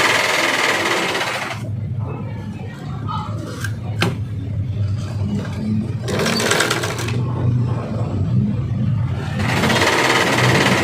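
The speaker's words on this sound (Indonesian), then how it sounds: "mari dijahit dulu" A sewing machine stitches the lining of a vest in steady, continuous runs with short pauses between bursts, close and fairly loud, with no talking over it.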